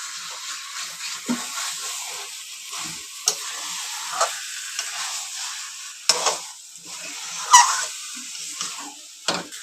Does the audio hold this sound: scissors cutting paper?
no